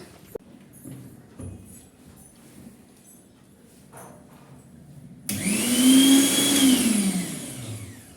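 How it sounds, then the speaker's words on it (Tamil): A 750-watt mixer grinder switches on abruptly after a quiet stretch with faint handling noises, then runs with a loud, steady whining motor drone close by until the end. "இப்போ வந்து நான் அந்த மிக்சியோட சவுண்டு வந்து போட்டு காட்டுறேன் எப்படி இருக்குன்னு பாருங்கள்"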